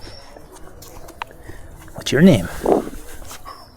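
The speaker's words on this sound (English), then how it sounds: "what are you doing, you crazy dog?" Dog whimpering and giving short yelping barks at an outdoor spot in Vado Real, Santander, Colombia, a couple of brief vocal bursts rising near the end while someone talks throughout.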